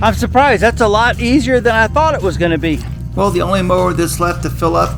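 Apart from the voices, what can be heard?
No everyday noise stands out behind the speech.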